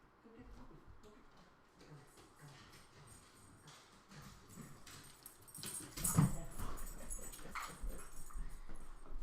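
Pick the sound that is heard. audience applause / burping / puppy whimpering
puppy whimpering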